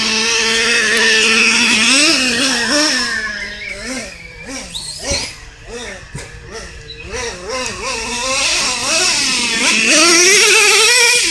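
A nitro RC truck engine held at full throttle, a loud, high, buzzing whine that wavers in pitch as the truck moves, dipping and surging mid-run, with no talk over it.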